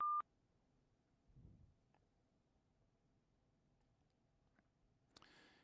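A single short electronic voicemail beep sounds at the start, followed by near silence with faint clicks and a brief burst of noise at the end.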